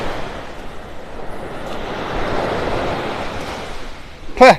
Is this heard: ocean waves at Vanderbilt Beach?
yes